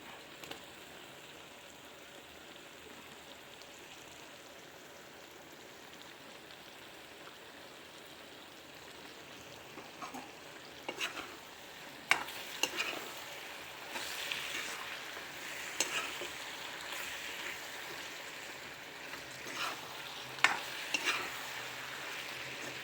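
Brinjal and tomato curry gets stirred in a pan, quiet at first, then scattered scraping clicks and soft wet sizzling build over the second half, with no talk.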